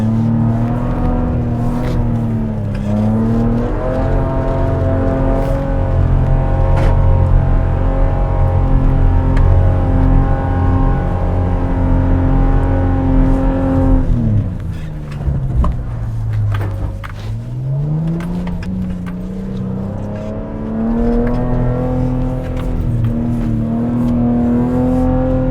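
A specially tuned Nissan Patrol Safari runs off-road in open desert, its engine droning loud and steady with shifting revs. A dip mid-drive marks an easing off before it pulls again.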